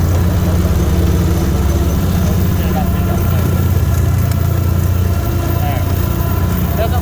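Lawn mower engine running steadily while mowing snow, a close droning hum with a constant low pitch, with someone talking over it.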